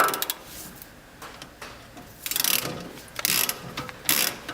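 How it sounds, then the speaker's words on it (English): A torque wrench tightens the nut on a mower blade bolt, giving bursts of close ratcheting clicks in several quick runs separated by short pauses. "Holding the bolt, using the torque wrench,"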